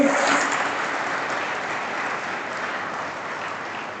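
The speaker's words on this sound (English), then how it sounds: "Friends, give a big round of applause" Audience applause at a college orientation programme, a dense, steady clapping from a large crowd that fills the whole stretch, loud at first and easing only slightly.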